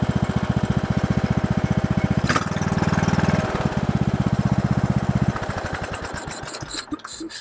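A riding mower's small engine idles close by after a carburetor replacement, with a steady, rapid putter that roughens briefly and then settles before tapering off near the end.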